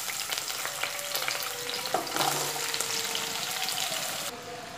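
Vegetables for sambar fry in a little hot oil, giving a steady close sizzle with occasional stirring scrapes throughout; no one speaks.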